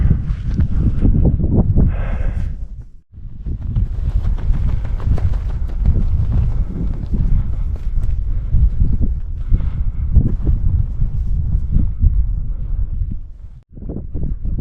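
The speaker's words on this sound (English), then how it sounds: "As you can see, it's pretty windy. You can probably hear that too." Strong wind gusting across an open mountain campsite near glacier runoff on Mt Edziza, a loud, steady roar buffeting the microphone almost continuously, with two brief lulls.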